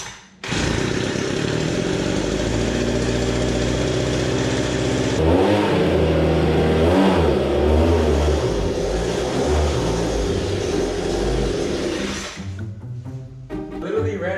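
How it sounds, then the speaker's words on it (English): A gas leaf blower in a garage roars close and steady for about twelve seconds, its engine pitch surging and wavering, then it sputters and cuts out as the fuel runs dry, leaving faint clatter. "grab the leaf blower, start cleaning off the floor"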